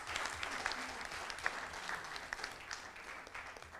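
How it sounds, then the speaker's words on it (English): An audience at a national student presentation competition finale claps for the presenters, a dense, lively round of applause with sharper individual claps standing out. "I request all of you to give a huge round of applause to all our presenters today"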